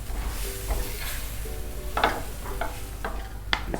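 Cheesy samosa filling with mayonnaise being stirred in a pan with the stove off, soft scraping and clinking of a spoon against the pan over a faint residual sizzle, close, no voices.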